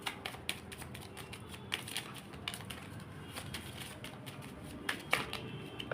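Tarot cards are handled and drawn, giving faint, close clicks, taps and soft rustles scattered irregularly through a quiet room.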